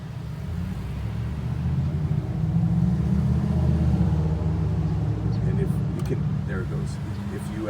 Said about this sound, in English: there's a loud truck that went by